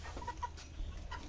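Broiler chickens about 32 days old clucking on a poultry farm, a brief cluster of close, soft clucks and chirps over low background hum, with no talking.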